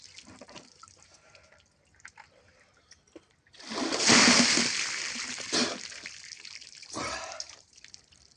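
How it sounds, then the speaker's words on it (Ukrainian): Cold water is poured over a person outdoors as a cold-dousing routine, a sudden loud rushing splash lasting a few seconds, followed by a second shorter splash and scattered drips. "і обливання водою"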